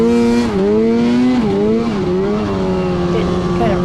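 Snowmobiles on a Northern Michigan trail pull away, engines droning loud and close with pitch rising and dipping as the throttle is worked.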